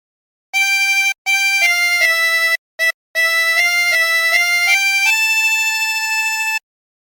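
Harmonica plays the Squid Game theme alone, a clear sequence of sustained reedy notes in short phrases with brief gaps between them, ending on one long held tone.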